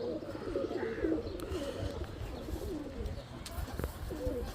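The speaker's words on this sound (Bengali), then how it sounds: "এইটা পেয়ারিং এর কবুতর।" A pairing pair of pigeons, a cock and a hen, coo nearby in soft repeated low phrases over a busy murmur of background noise, no voice standing out.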